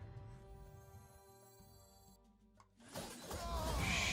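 A glassy shattering sound effect from a digital card game breaks in loudly near the end with bright crackling shards, after a stretch of steady tonal game music.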